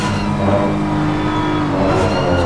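BMW GT3 race cars lapping Imola in a racing video game, with a steady, loud, sustained engine drone and harmonic whine holding at high revs throughout, close and continuous with no talking.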